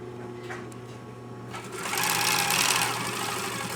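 A sewing machine stitches a single lap zipper on a costume, first in a steady humming run, then a faster, louder burst of rapid stitching, heard up close.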